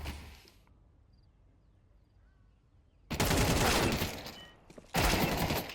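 FAMAS rifle bursts ring out in a Counter-Strike match, two loud sustained volleys of rapid fire after a quiet stretch, close and dominant.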